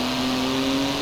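A 3.8-litre twin-turbo flat-six sports car of 700 horsepower, carbon fibre bodied, revs in Forza Horizon 4 with a loud, steady, close engine drone holding one sustained pitch.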